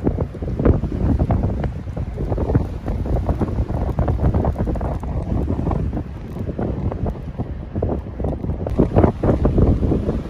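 Strong wind buffets the microphone in a constant roar, gusting louder at moments, with no voices.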